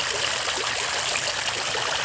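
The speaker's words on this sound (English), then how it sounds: "So basically what I did was I put in a little sprinkler system here," Steady trickling and splashing of water running from a small PVC sprinkler into an Intex above-ground pool, continuous and fairly loud with no voices.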